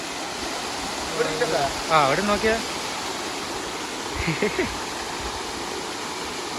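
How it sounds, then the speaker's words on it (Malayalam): A small waterfall at Varavoor near Vadakkanchery roars as a constant broad wash of falling water, while people talk briefly over it. "നമ്മൾ എത്തി മക്കളെ വെള്ളച്ചാട്ടത്തിലേക്ക്."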